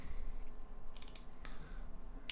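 Keys tapped on a computer keyboard while building a website in Dreamweaver, a short quick run of clicks over a faint steady background hum, no voices.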